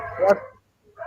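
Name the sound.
dogs barking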